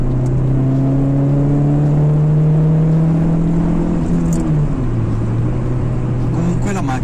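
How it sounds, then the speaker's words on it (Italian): A Hyundai Coupe engine pulls under acceleration in third gear, its tone rising steadily as a loud, sustained drone, then dropping after a shift as the engine keeps running. "mettiamo di nuovo la terza. Si sì, dare un colpo di accelerazione."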